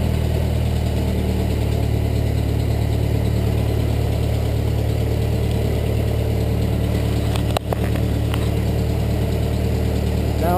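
A 1922 Ford Model T engine idles steadily on its magneto, a loud, close, even rumble with a constant low throb. A brief knock interrupts it partway through, and no voices are heard.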